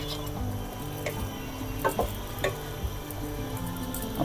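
Raw mango murabba is stirred in a pan, with a soft bubbling sizzle under repeated light clicks and scrapes from the spoon at an uneven pace.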